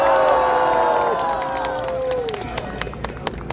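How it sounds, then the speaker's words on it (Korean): A crowd at an outdoor political rally applauds and cheers, with loud shouts and whistles fading out over the first two seconds into scattered sharp clapping that continues to the end. "큰 박수 보내주십시오"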